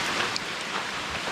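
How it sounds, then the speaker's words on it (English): Rain falling steadily in the UAE, a dense, even patter of drops on surfaces, with no talk and no other sounds. "It's raining."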